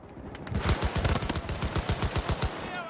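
Rapid bursts of automatic gunfire in the video game Battlefield 2042, sharp repeated cracks in quick succession, fairly close and loud, with a few scattered shots trailing off.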